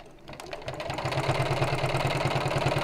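A domestic sewing machine top stitches around a fabric edge, its needle running in a steady rapid rhythm that builds after a brief start and holds close and even throughout.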